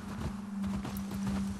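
Horse hooves clip-clop in The Last of Us Part II, a soft, steady walking rhythm of hoofbeats over a low constant hum, fairly quiet and close.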